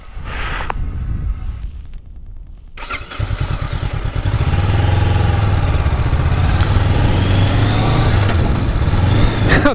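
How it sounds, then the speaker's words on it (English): A Honda NX500 motorcycle runs on a road, its engine dropping to a lull before settling into a loud, steady throb with a few crackling exhaust pops mixed into the drone. "I do love the pops and bangs on the exhaust on these NX500s"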